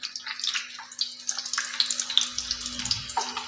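Chopped onion and garlic fry in hot oil, making a close, crackling sizzle with bubbly, watery pops over a faint steady hum.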